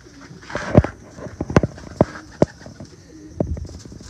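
Teddy pigeons coo in short, close bursts several times over a few seconds, with faint rustling and low background noise between calls.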